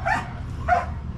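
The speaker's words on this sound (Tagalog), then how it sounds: "Mga aso na to." Two short dog barks on a rooftop garden, spaced about half a second apart, medium loud over a low background hum.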